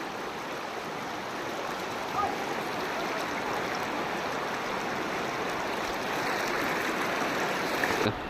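Floodwater rushing steadily after heavy rain, a dense continuous roar like a strong stream, loud and close, unbroken for the whole stretch with no talk.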